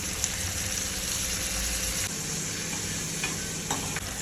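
Asafoetida, garlic, onion and tomato fry in a pan for a Gujarati leftover-roti sabzi, giving a steady close sizzle with scraping stirs and a few clinks near the end.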